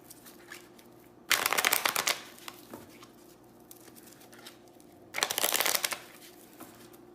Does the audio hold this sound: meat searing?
no